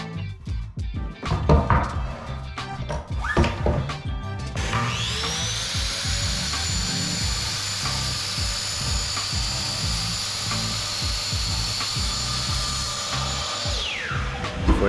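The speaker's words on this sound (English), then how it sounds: "Some of it was a little long, so I trimmed everything to size." Power tools trimming wood boards to size, with short bursts of cutting early on, then a sustained high whining saw or drill run lasting about ten seconds before it winds down, fairly loud and close.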